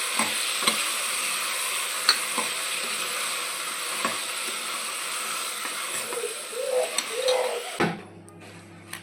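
A spoon stirs sambar with field beans, potato and brinjal in a pot, a steady close scraping and faint simmering hiss with a brief bubbling burst near the end.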